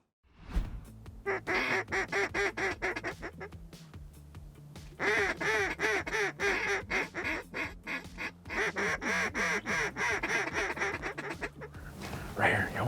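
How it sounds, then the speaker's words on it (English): A mixed flock of pintails, teal and mallards quacks loudly and repeatedly over water during a puddle duck hunt, rapid overlapping calls in bursts with short pauses between them. "That's the pintails and teal. A few mallards."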